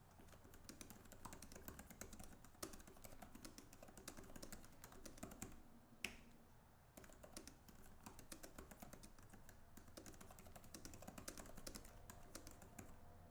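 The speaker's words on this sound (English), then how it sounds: "I hope you guys heard those keys." Steady, rapid typing on an Apple Magic Keyboard for a tablet with light clicky keystrokes, continuous for several seconds with a brief pause midway.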